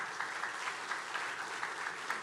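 Steady applause from a church congregation, a dense even patter of many hands clapping throughout at moderate volume with no talk over it.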